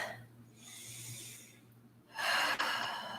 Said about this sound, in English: Keep breathing, 1 more big breath.